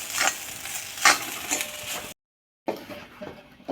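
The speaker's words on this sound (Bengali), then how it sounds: "নারিকেল কুড়ে এই যে বেজে নিলাম কড়াইতে।" Grated coconut being roasted in a wok, with rhythmic scraping stirs and a soft dry sizzle close by, briefly cut to silence before the stirring resumes.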